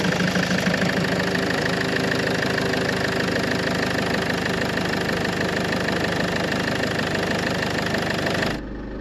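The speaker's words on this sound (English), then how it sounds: "start the engine because the oil filter's not full" A Land Rover Freelander 2 engine runs at a steady idle during an oil change, a close, even, slightly knocking drone that holds for several seconds and then cuts off abruptly near the end.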